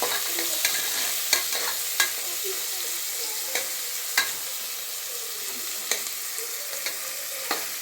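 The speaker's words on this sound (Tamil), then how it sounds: "வெங்காயமும் கறிவேப்பிலையும் போட்டிருக்கு." Onions and curry leaves frying in a pan for a chicken kulambu, a steady soft sizzle with sharp scraping clicks of stirring scattered throughout.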